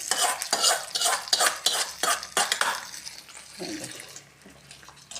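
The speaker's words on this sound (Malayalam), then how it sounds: "ഈ പുളിശ്ശേരിയിലേക്ക് നമുക്ക് കടുകും ചേർത്ത് ഒഴിക്കാം." Mustard seed tempering poured into mango pulissery is mixed with repeated rhythmic scrapes and clinks of a spoon against the pan, loud at first and then settling into a softer, quieter sizzle.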